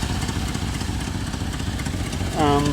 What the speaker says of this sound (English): if I leave it like this, she'll idle all day